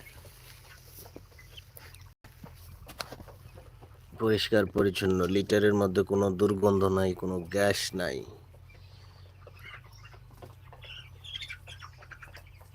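Sixteen-day-old broiler chickens in a poultry farm shed cluck and cheep faintly in the background, a continuous low flock murmur under someone talking at close range through the middle of the stretch.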